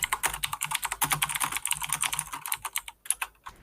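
Rapid, steady typing on a computer keyboard with dense clattering keystrokes, close and fairly loud, with no voices over it.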